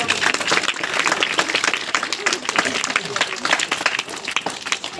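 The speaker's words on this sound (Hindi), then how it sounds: "एक बार जोरदार ताली से उन सभी का।" Loud, vigorous applause from an audience gathered at an event honoring Savitribai Phule's birth anniversary, with dense clapping and crowd noise throughout.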